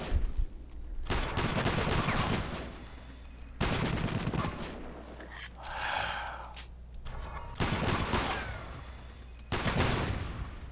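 Turret gunfire in the video game Iron Storm, loud sustained bursts of rapid automatic fire repeating in several volleys with short gaps, and a breathy vocal gasp in between.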